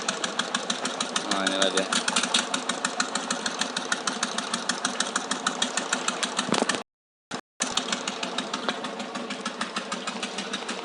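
An engine runs close by at a steady, rapid idle with rhythmic pulsing knocks, cutting out briefly partway through before resuming, while someone speaks over it.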